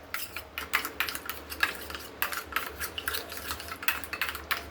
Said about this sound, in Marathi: दह्यामध्ये गोळे नाही राहिले पाहिजेत, या पद्धतीने याला चांगलं फेटून घ्यायचं.